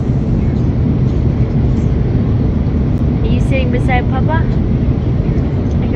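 Steady, dense roar of an airplane cabin in flight, with a continuous low rumble throughout while a voice speaks briefly over it.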